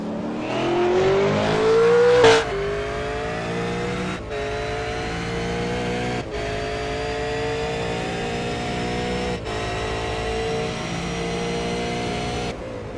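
A V8 race car in the v8sonline sim racing game at Twin Ring Motegi, engine revving hard then climbing through rapid upshifts, each change cutting the steady buzzing drone briefly, loud and continuous with no talk.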